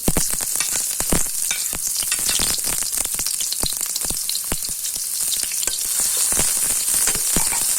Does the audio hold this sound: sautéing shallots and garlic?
yes